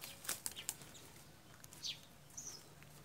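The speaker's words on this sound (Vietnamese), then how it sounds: "Các bạn lắng nghe những cái tiếng chim hót rất là lạnh lót" Small birds chirp in short, bright bursts over open rice fields, a few scattered calls and a wing flutter standing out faintly against a quiet outdoor hush.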